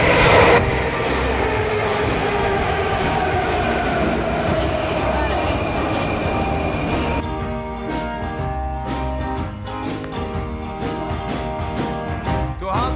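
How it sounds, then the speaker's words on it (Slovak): A Prague metro train rumbles loudly through a station, with squealing wheels and a steady roar, then rhythmic clicking of wheels passing over rail joints. "Je strašne dlhý záber na metro, ktorý stále neprichádza."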